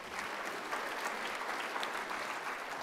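Audience applause after a health talk on cancer treatment, a steady, dense wash of clapping at moderate distance, continuous for about three seconds with no voices over it.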